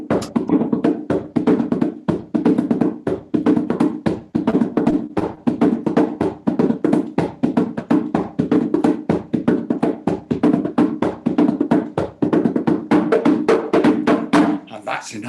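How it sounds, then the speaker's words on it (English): Children's evening storytelling session with a steady, fast rhythm of hand clapping that runs continuously and stays loud and close, with sharp repeated claps in an even pattern. "can you clap like that?"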